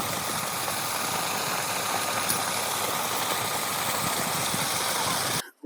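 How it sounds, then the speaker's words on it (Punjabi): A steady farm motor engine in a field drones on continuously, loud and close, with a constant rumbling hum before cutting off abruptly at the very end. "ਹੋ ਗਈ ਮੋਟਰ ਚਾਲੂ"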